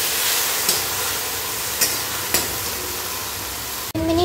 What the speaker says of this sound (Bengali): এবারে পেঁয়াজ কাটাটা অ্যাড করে দেবো, দিয়ে এইটাকেও একটু ভালো করে নেড়ে ছেড়ে 2-3 মিনিট একটু